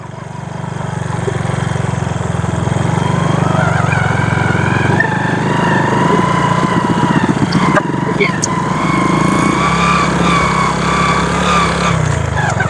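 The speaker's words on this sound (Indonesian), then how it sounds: "Wah, ada motor lagi depan." A motorcycle engine running on a forest road, a steady loud drone close by that swells slightly as the bike moves, with wind and road noise mixed in.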